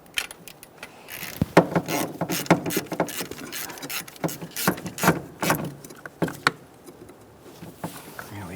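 A ratchet snugs two 10mm mounting nuts onto a bracket on a 1999-2006 Chevrolet Silverado 1500 4.3L, making irregular bursts of sharp, close clicking with pauses between them.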